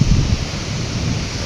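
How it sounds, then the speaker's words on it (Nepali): Water running across a road near a waterfall in Taplejung, Nepal, a steady broadband rush with low rumbling wind buffeting the microphone, constant and close throughout. "पानी नै रोडमा पनि पानी नै बगिरहेछ"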